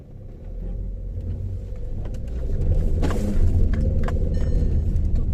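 A car rolls along a bumpy, pothole-filled road in rainy weather, its engine rumble and tire noise swelling louder midway, with clunks and thumps from the uneven surface and no speech.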